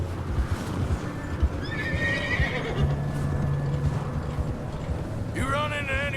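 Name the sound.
horse neighing in video game Red Dead Redemption II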